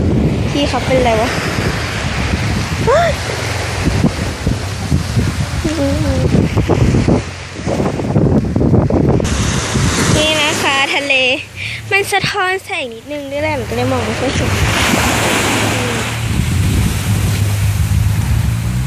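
Sea waves wash onto a beach at Prachuap on a windy day, a continuous surf roar with wind buffeting the microphone, while someone talks over it throughout.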